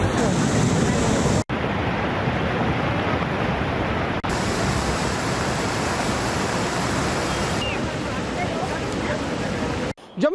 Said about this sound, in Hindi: मुनव्वर तवी जो है वो पूरी तरीके से अपने उफान पर है